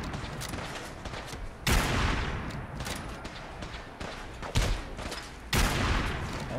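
Gunfire in the Fallout video game at Warwick Homestead, including sniper fire. Loud, sharp bursts crack out at uneven intervals over a constant wash of battle noise and rumbling explosions.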